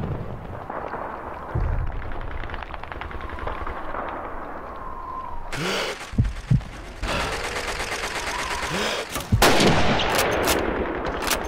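Sniper gunshot in Call of Duty 2 during the Stalingrad city hall fight, a few loud sharp cracks with booming tails over a rumbling battlefield ambience and distant fire, and a voice briefly heard.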